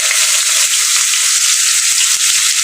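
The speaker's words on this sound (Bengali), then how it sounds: "এবার আমি পেঁয়াজটাকে লাল করে ভেজে নেব" Chopped onions dropped into hot oil with cumin seeds crackle in a loud, dense, hissing sizzle that stays steady from start to finish, close up and with no voices.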